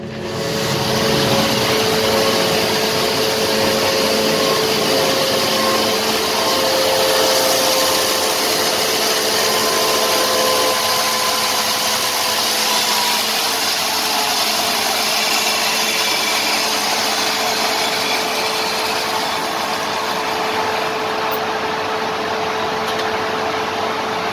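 A small Derbi 70cc moped engine runs steadily and loudly on a test bench throughout, a continuous mechanical drone with a buzzing whine, holding nearly constant speed.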